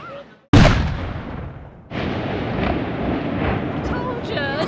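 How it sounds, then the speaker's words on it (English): A ceremonial Ramadan cannon fires in Dubai: one sudden, loud boom whose long, rumbling decay gives way to crowd noise and background talk. "they've got like a cannon and they've put a massive bullet in this cannon, or whatever you call it, rifle, and it's pointed our way"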